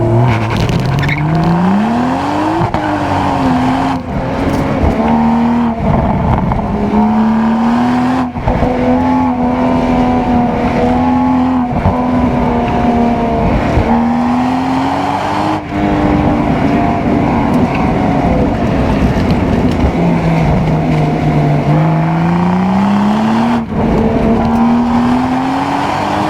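Autocross cars in the A Street class run a ProSolo course, their engines droning and revving steadily with rising and falling pitch as they accelerate and shift, loud and continuous throughout with no talk over them.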